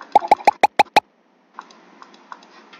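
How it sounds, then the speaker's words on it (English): A quick run of six bright pops, evenly spaced, followed by a few softer, fainter pops after a short pause. "play start sound pop"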